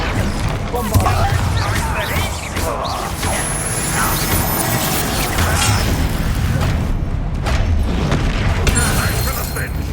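A Bombarda blasting spell in the video game Hogwarts Legacy, booming crashes and smashes in a dense, loud battle din, with voices calling out among the impacts.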